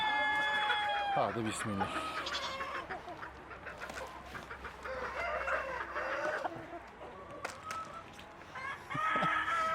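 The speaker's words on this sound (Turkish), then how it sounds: "3 tane yeni tavuğumuz hayırlı olsun." Farm chickens cluck and a rooster crows amid a flock that has just taken in three new hens, the calls rising and falling over several seconds while a person speaks briefly nearby.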